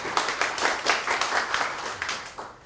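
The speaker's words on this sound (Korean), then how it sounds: "박수 한번 주시죠" An audience at a Korean talk event applauds a guest speaker, with steady, fairly loud clapping throughout and a lively, irregular texture of many hands.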